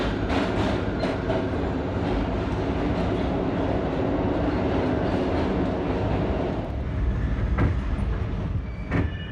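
An R38 subway train on the A line runs steadily with a continuous loud rumble of rolling wheels and rail noise, a few louder clacks near the end, and no voices.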